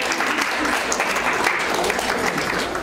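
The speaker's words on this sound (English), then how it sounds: "can we give them a round of applause?" An audience at a school class dinner applauds performers and teachers, a loud, dense and steady round of clapping that fills the whole stretch without letting up.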